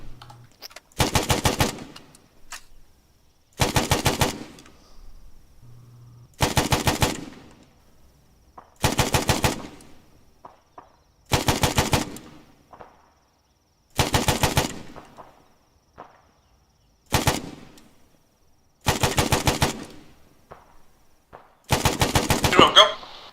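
Automatic machine-gun fire in the military shooter game Arma 3, coming as about nine sharp sustained bursts spaced a couple of seconds apart, loud and close, with quiet gaps between.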